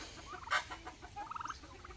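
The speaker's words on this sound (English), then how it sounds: "Our chickens just free range the property along with the turkeys" Chickens cluck nearby in short bursts, one sharper squawk and then a quick run of rapid clucks, over quiet outdoor background.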